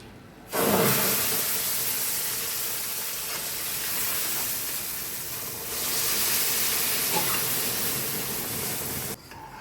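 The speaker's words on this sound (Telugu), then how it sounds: "పాలు పోసేస్తాను" Boiling milk is poured onto fried semolina in a pan for rava kesari. It sets off a loud, steady steaming sizzle that starts suddenly, holds for several seconds, then cuts off, with no talking.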